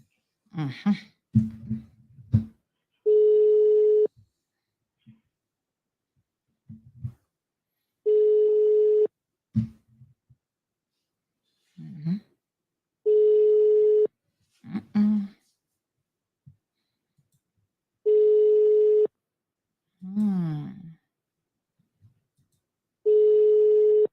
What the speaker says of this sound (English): At least this one's ringing.